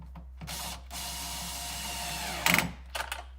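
A power drill with its clutch set at 9 drives a 10mm nut back on during 12-volt battery work on a 2012 Chevy Volt. It gives a steady, close whir, then sharp clutch-ratchet bursts as the nut seats.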